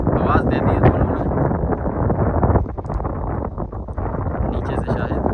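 Wind buffets the microphone at an outdoor kite-flying ground, a loud low rumble with gusting swells, while someone talks over it.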